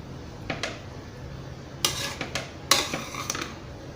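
A rice and lentil dish (arisi paruppu sadam) being mixed in a metal pot, with clustered ladle scrapes and sharp clanks against the pot rim between quieter pauses.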